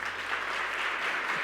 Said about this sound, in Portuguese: Vamos aplaudir os nossos diáconos